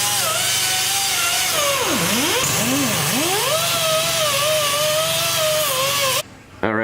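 A Dremel fitted with a wire brush scrubs rusty exhaust metal on an Infiniti G37. A loud, close, high-pitched whine dips and rises as the load changes, then cuts off abruptly near the end.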